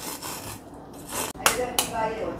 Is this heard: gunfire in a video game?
no